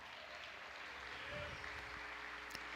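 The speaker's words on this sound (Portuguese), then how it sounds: "Quem vai aplaudir a Deus?" Church congregation applauding at a worship service, a steady faint wash of many hands clapping throughout at a distance, with murmured voices underneath.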